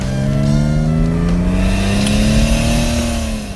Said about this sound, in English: switch forward, Vanes close, turbo spools up quicker